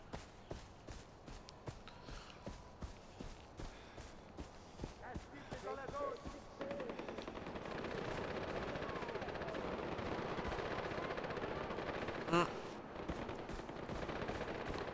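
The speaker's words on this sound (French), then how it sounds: "Un échange musclé de coups de feu." Rapid bursts of gunfire crackle through a game soundtrack, steady rattling volleys building into a dense, continuous exchange with a sharp louder shot near the end.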